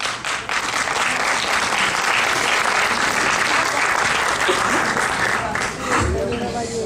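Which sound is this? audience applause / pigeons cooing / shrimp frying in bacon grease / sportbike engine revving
audience applause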